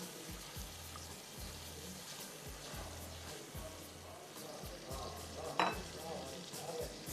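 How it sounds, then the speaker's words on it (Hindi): Ingredients frying in a pan with a steady sizzle, a sharper spatter spike near the end, and repeated low rhythmic thumps running underneath throughout. "तीन से 4 मिनट आपको इसको भूनना है।"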